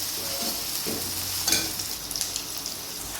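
Onion frying to brown in a hot pan, a dense continuous close sizzle with a few soft stirring scrapes, no voices.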